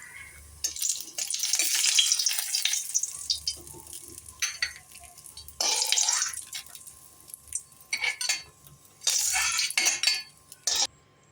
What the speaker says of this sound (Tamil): 1-2 உடச்சி வச்சுருக்கேன் முந்திரி பருப்பு. அதை பொரித்து எடுத்துக்குவோம்.